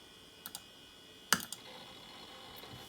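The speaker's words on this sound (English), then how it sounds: "You can hear the hard drive clicking away." An old Apple iMac G3 hard drive clicks in a quiet room, a few faint sharp ticks followed by one louder click and some scattered softer ones.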